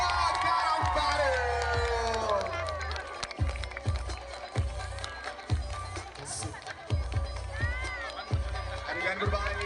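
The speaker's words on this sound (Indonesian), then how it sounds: "Sekali lagi tepuk tangan yang meriah untuk SMK Negeri 2 Karangbaru" Lively outdoor crowd applauding and cheering for SMK Negeri 2 Karangbaru school performers at a Car Free Day event in Aceh Tamiang, a steady roar of claps and shouts with sharp bursts, under loud talk from an announcer.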